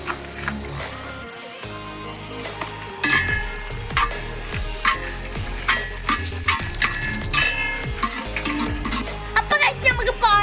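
Cashews and raisins frying in a pan for carrot halwa, with a steady oily sizzle under repeated scraping stirs of a spoon against the pan, close and moderately loud, with occasional clinks.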